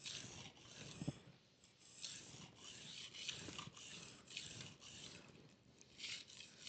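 A blade's burr is removed with very light sharpening passes, a soft rhythmic rasping rub repeating about every half second, quiet and close with no talking.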